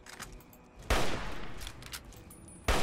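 Two loud, sharp hunting rifle shots in Fallout 3, one a second in and another near the end, each with a long, rumbling tail that fades between them.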